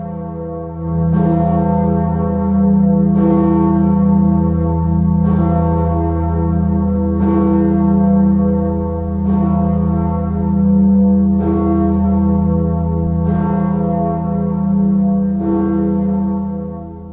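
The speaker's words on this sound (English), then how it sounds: "The Grote Kerk Bourdon at Dordrecht Minster in the Netherlands. Cast in 1999 by the Royal Ijsbouts Bell Foundry, with a pitch of E" Deep bourdon bell of the Grote Kerk at Dordrecht Minster in the Netherlands, cast in 1999 by Royal Eijsbouts and pitched in E, tolling about eight evenly spaced strokes over a long, sustained humming resonance.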